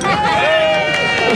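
Spectators at a cow-milking contest cheer in a short, loud, steady swell of overlapping voices nearby.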